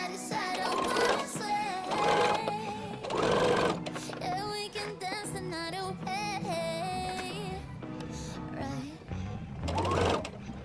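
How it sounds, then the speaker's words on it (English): A sewing machine topstitches knit fabric for a men's T-shirt, its steady mechanical whirr running close and continuous in short bursts with brief pauses, while someone talks over it. "As you're sewing, remember to push the fabric slightly away from the seam allowance so you can top stitch"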